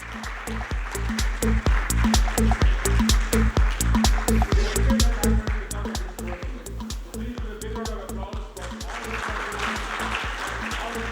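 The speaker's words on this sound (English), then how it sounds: "A big round of applause for them, everyone." An audience at a packaging industry ceremony claps in a strong, regular beat of crisp, near claps that loosens and thins out toward the end, with a low steady hum underneath.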